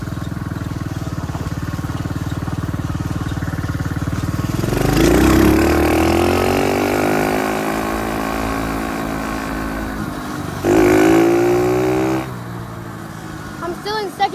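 A dirt bike in second gear on a West Virginia mountain ride, its engine droning steadily and then rising in pitch twice as it revs up before easing back, loud and close.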